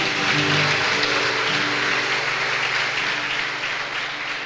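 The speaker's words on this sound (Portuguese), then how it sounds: "Você pode aplaudir Jesus?" A church congregation applauds for Jesus in a steady, dense wash of clapping that holds for several seconds, with sustained low musical tones running underneath and the level easing slightly toward the end.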